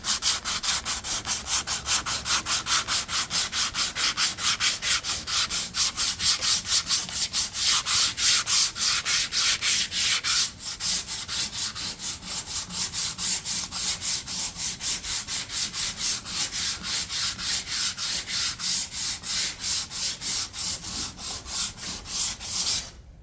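Steady, rapid sanding strokes work along the edge of a car's rear quarter panel, smoothing and feathering it, heard as a continuous close abrasive rasp with a fast even rhythm and a brief pause midway.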